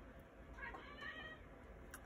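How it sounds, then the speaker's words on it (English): A pet cat meows indoors near a window facing a bird feeder, giving a few faint, drawn-out cries at low volume against quiet room noise, with no speech. "Sorry about the cat."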